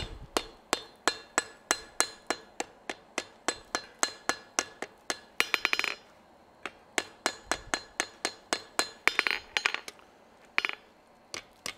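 A hot rivet is struck on an anvil with a rapid, even series of sharp metallic hammer blows, a brief pause, then another run of ringing strikes, close and crisp with no talking.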